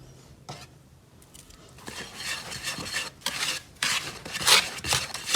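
A spoon stirs cake batter of flour, baking soda and wet ingredients in a bowl for a birthday cake, with irregular scraping and rubbing strokes against the bowl that grow louder and busier, close and alone.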